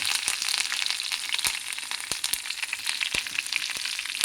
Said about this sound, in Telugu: ఇప్పుడు కరివేపాకు, తాలింపు దినుసులన్నీ వేసుకోవాలండి.